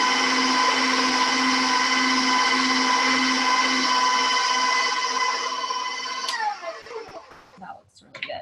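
A kitchen mixer whirs steadily and loudly as it blends a batch of BBQ pulled pork ragu mixture, holding a constant motor tone before winding down and stopping near the end.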